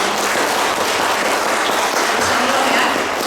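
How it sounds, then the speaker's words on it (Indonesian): Applause from an audience at a motivational seminar in Indonesia, honoring Mr. Fauzi, a guest who came despite his house catching fire; dense, steady clapping fills the room for the whole stretch with no voice over it. "Tepuk tangan untuk Bapak."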